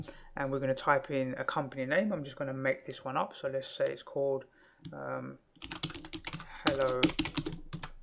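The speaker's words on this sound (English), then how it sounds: "we're going to type in a company name" A company name is typed on a computer keyboard while a person talks over the first half. Dense, crisp keystrokes then come in quick runs, close and fairly loud.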